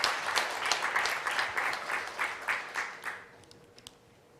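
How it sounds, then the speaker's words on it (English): An audience at a conference on mind, science and religion breaks into applause, a dense burst of clapping that fades over about three seconds, leaving a few scattered claps. "join me in thanking them all with a round of applause"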